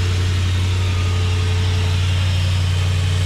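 A Jeep Grand Cherokee SRT8 with the 6.1L Hemi V8 idles smoothly and steadily up close after new spark plugs, giving a constant deep rumble with no roughness or change in pace.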